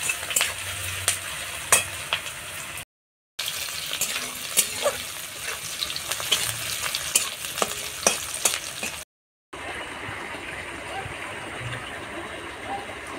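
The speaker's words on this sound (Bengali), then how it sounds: "পেঁয়াজ, রসুন, কাঁচা লঙ্কা ভাজা হয়ে গিয়েছে" Onion, garlic and green chili fry in a pan, a steady broadband sizzle with scattered crackles and pops running close and continuous, briefly cut by two short gaps.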